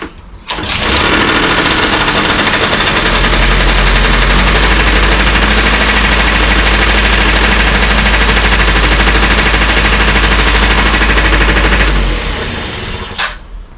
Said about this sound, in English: Alright, that's a running bike.